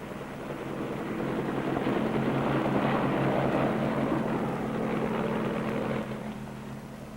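A Marine helicopter lifts off from an aircraft carrier deck, its rotor and engine roar building into a steady, heavy drone that swells and then eases slightly near the end, continuous and unbroken with no voices.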